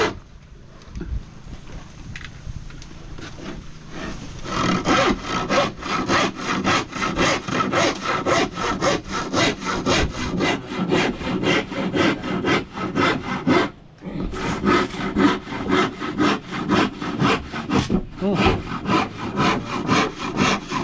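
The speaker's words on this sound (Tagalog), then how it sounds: "Matibay yung lagari mo, no?" Hand saw cutting wood in steady, rapid back-and-forth strokes, loud and close. The strokes run continuously for most of the clip, with a brief pause midway, while work on dismantling an old boat mast goes on.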